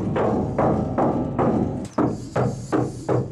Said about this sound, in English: I'm going to show you a quick before and after knocking on the panels,